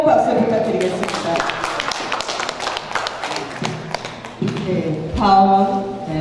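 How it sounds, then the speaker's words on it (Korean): An audience at a poetry recital marking a seventieth-birthday celebration gives a round of applause: fast, scattered hand claps mixed with speech from the stage. "다시 한번 뜨거운 박수 부탁드리겠습니다"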